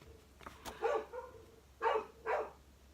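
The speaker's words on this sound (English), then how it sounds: "What are y'all barking at?" Several dogs on a farm bark in short bursts, a few quick yips early on followed by two louder barks, heard at a moderate distance against quiet surroundings.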